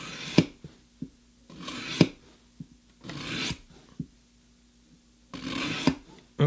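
A knife blade drawn across a ceramic sharpening stone in several separate raspy strokes with short pauses and light clicks between them, close and fairly quiet.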